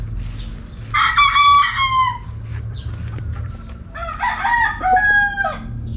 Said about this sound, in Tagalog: itong manok na bigay sa atin ni Konsehal Terio Peñas sa Compostela